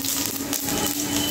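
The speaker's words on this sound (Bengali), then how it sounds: "এখন আমি মাছ ভাজার তেলেই ফোড়নটা দিয়ে দিব। এখানে দিয়ে দিচ্ছি গোটা জিরে" Whole cumin seeds sizzle in hot oil left over from frying rohu fish, giving a bright, steady crackling hiss that stays close and loud for the whole moment, with no voices.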